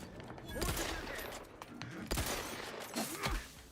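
Gunfire in the video game The Outer Worlds 2: a few sharp, loud shots burst out at intervals over a busy, noisy game background.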